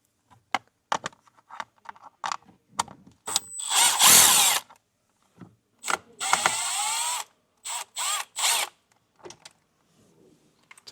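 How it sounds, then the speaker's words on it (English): A power drill backs out Phillips screws from a vehicle trim panel in a 2025 Nissan, with short bursts of whirring motor separated by pauses, clicks and handling noises, fairly close and loud. "Take those screws out."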